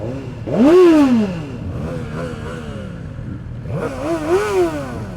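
A Suzuki GSX-R1000R sport bike on its stock exhaust revs twice, each blip sweeping sharply up and falling back, with a rougher idle between the bursts, close and loud.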